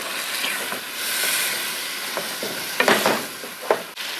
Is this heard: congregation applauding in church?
no